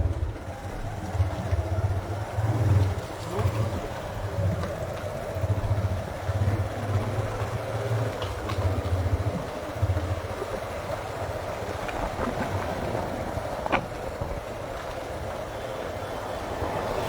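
A motorbike rides along a badly damaged, potholed road in Haldwani, its engine rumbling steadily and loudly throughout, with jolts and rattles from the rough surface.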